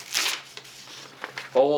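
A survival multitool knife slices through a sheet of paper in a brief, close, crisp rasp, followed by a few faint scrapes before a voice speaks at the end.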